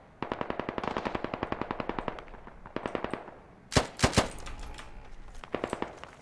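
A video game gun fires long rapid bursts of automatic shots, loud and close. A few heavier, sharper blasts and echoing booms follow, with no speech over the firing.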